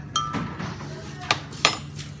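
Sliced fingerroot pieces dropped into a blender jar, landing as a few separate hard clinks and taps spaced irregularly over about two seconds, close by, over a low steady background hum.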